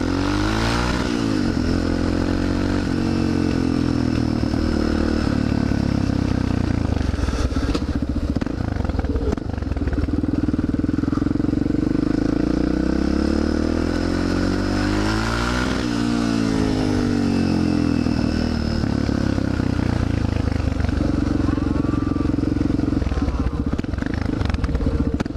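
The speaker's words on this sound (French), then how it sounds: "la moto à Fizz est tellement bizarre" A motorcycle engine drones continuously nearby, pitch rising and falling as it accelerates and eases off, with rattling and road noise throughout.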